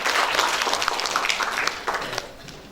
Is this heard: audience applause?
yes